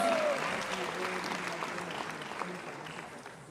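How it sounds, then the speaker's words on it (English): Applause from a gala dinner audience follows a girls' performance, a steady wash of clapping at moderate distance that slowly fades over a few seconds. "Let's give one more round of applause for these girls."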